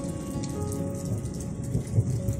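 Rain falls steadily on a cabin, a dense, continuous patter that stays loud and even throughout, with a low rumble underneath and no voices.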